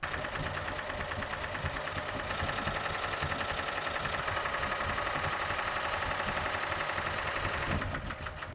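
An embroidery machine stitches a placement line for an in-the-hoop crib and blanket nativity piece, giving a steady, rapid mechanical chatter that runs loud and unbroken for about eight seconds before stopping abruptly.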